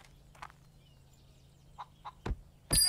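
A chicken in the farm-restoration game Barn Finders gives a few short, scattered clucks over a low steady hum, closing with a louder, sharper squawk.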